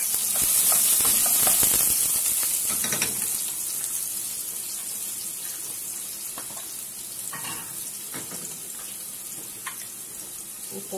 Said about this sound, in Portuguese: já tá bem quente, olha, a cebola.